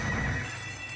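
Horse neighing and whinnying in the Big Bass Day at the Races slot game, a single loud whinny at the start fading into a low rumble with faint hoof clip-clop.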